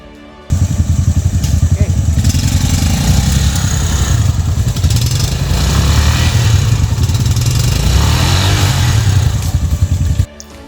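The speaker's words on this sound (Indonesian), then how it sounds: "Dari jauh terdengar suara mesin meraung, selip." A motorcycle engine roars and revs hard with wheels slipping on a mountain trail, rising and falling for several seconds before cutting off abruptly.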